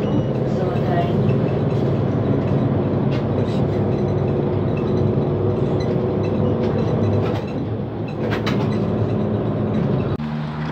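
A metro train rumbles along steadily, with a continuous low roar and faint rattling, while a recorded Russian announcement voice names the next stop, Zolotaya Niva station.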